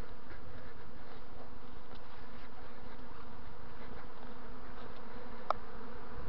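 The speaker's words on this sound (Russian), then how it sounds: "В эпицентре раения мы." An early swarm of honey bees fills the air at an apiary with dense, continuous buzzing that stays close and steady throughout, with no voices.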